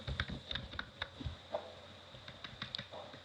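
HTML code being typed on a computer keyboard: a quick irregular run of soft, close key clicks, fairly quiet, with no speech over it.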